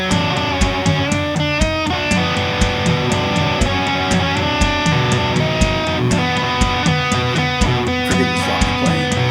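A loud, dense band track built from audio drum loops with bass and guitar plays continuously. A steady, punchy drum beat drives layered, slightly distorted bass and guitar parts.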